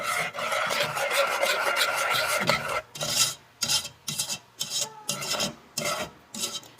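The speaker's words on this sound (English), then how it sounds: "Now you want to stir this constantly so that it doesn't burn" A utensil scrapes and stirs sugar with cherry juice in a pan over low heat, first as a continuous rasp, then as a series of short, rhythmic strokes with brief pauses between them.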